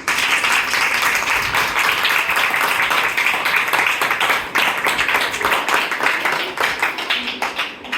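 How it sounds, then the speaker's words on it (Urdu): Loud applause from an audience at a church gathering praising a sung performance, a dense, sustained wash of clapping that stays full throughout. "یہ زوردار تالیاں کلام کے لیے۔"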